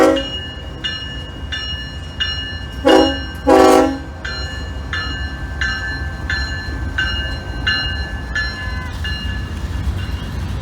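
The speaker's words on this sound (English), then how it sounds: "we find this northbound ballast train rolling in onto the Choctaw sub" A northbound ballast train rolling in on the Choctaw subdivision near Fort Worth, with a steady rumble of cars passing close, rhythmic bell-like clanging, and two loud horn blasts early on.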